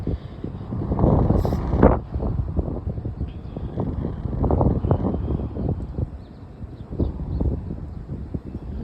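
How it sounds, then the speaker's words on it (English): Strong wind buffets the microphone outdoors in a low, uneven roar, with gusts swelling and fading throughout and a brief sharper thump near the start. "the wind's so strong"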